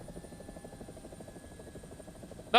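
Helicopter rotor and engine from the War Thunder video game, a steady rhythmic thudding drone with a faint high whine, continuous and moderately loud throughout, ending in a sudden sharp burst.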